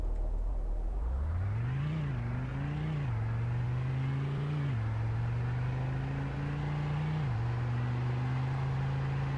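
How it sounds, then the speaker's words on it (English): A 2008 Bullhorn Python ATP in Roblox Greenville accelerates from 0 to 60 in drive mode, its steady synthetic engine drone climbing in pitch and dropping at each of several gear shifts, loud and close throughout. "Alright, 0 to 60 in drive mode."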